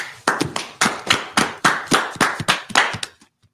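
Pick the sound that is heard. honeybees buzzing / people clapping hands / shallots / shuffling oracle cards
people clapping hands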